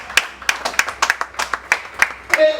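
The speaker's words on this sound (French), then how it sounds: "Madame, monsieur, il faut applaudir cet homme-là." Audience claps together for a man at a press conference, a steady run of sharp hand claps at moderate volume lasting a few seconds with a brief tonal sound near the end.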